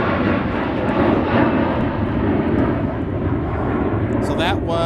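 A SkyWest airliner departing MSP airport, a steady loud jet engine roar throughout, heard from a spotting position near the runway.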